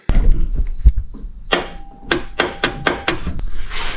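A series of sharp mechanical clicks from an electrical switch in a 1983 Pontiac Firebird, several spaced irregularly over a few seconds, close by against a faint background hum.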